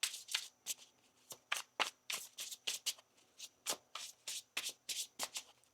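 Tarot cards are shuffled by hand in a quiet room, a close, crisp run of repeated riffling bursts with short pauses between them and no talking.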